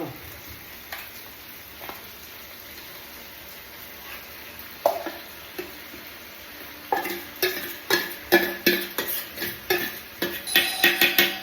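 Marinated chicken stirred into a sizzling onion-tomato gravy: a soft frying hiss throughout, then a quickening series of scraping, tapping stirs of the spoon against the pan toward the end.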